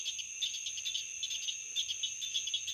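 A cricket chirps at night near a frog pond, a steady high pulsing trill that carries on evenly throughout, fairly close and alone with no voices.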